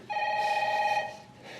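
A telephone bell rings in one bright, steady trill for about a second, then starts again faintly, close by in a quiet room.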